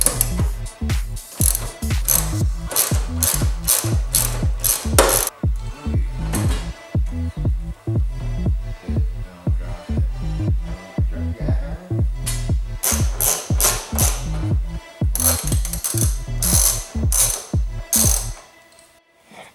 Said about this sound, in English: we just got the 10mm nuts all undone